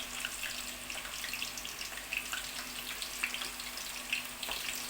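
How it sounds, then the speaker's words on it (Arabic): Potatoes fry in a home kitchen pan with a continuous soft sizzle and faint bubbling crackle. The sound is steady and moderately quiet, with no talking over it. "هحط البطاطس بتاعتي هقليها"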